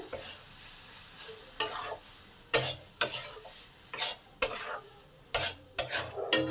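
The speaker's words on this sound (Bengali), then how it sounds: "ঘি আর গরম মশলাটাকে ভালো করে মোটার ভিতরে মিশিয়ে দিলাম" Ghee and garam masala being stirred into a banana flower curry, a spoon or spatula scraping the pot in about nine distinct strokes over a faint background sizzle, close and fairly loud, with no talking.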